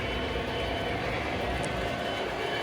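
The Blue Comet train, bound for Atlantic City on the Jersey Shore, makes a continuous low rolling rumble that holds steady at an even level throughout.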